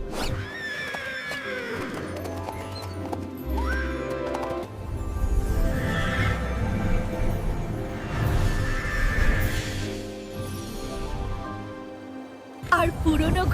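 A horse whinnies over a bed of music, with people talking through much of it and a sharp rustle at the very end.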